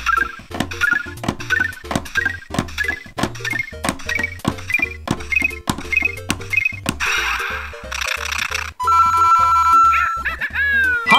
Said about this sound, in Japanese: 続いては船尾についているクッパのカラーコードいきましょう